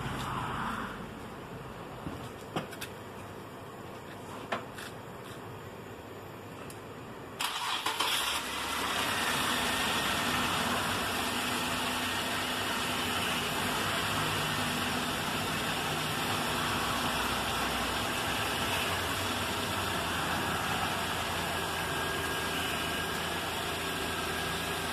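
A car engine cranks and catches partway through, then settles into a steady, close idle with an even hum and no talk, just before the steering wheel is turned lock to lock.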